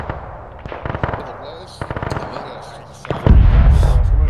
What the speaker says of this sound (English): Are those friendly guns down west?